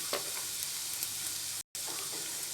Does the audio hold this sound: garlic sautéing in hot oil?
yes